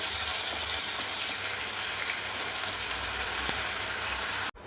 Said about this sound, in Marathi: आता याच्यामध्ये टाकूया 1 चमचा अद्रक लसूणची पेस्ट. हे पण छान परतून घ्यायचं आहे.